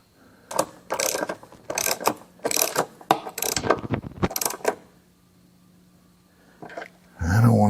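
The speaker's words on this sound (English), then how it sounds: "that's a half inch wrench" A half-inch ratchet wrench tightens the last nut on drag bars fitted to a Harley-Davidson Softail Standard, giving a run of about eight quick, close ratcheting bursts, followed by a quiet pause and a brief louder noise at the end.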